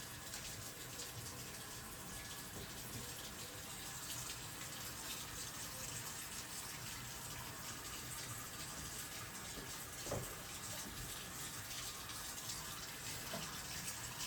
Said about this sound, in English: We'll rinse it off, make sure that all the soap is off of it as possible